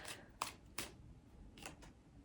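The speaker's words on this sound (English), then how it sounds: "So let's get shuffling." A tarot card deck is shuffled close by in a few quick, soft riffling bursts with short pauses between them, faint against a quiet room.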